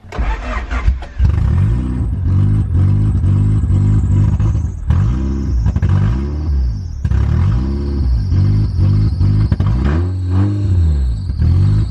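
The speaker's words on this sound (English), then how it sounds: "Let's see if we can actually rev it this time." A Honda EG8 with an intake vacuum leak cranks and fires, then its engine is revved repeatedly in loud rising and falling surges, close and dominant, with rough idle between pulls.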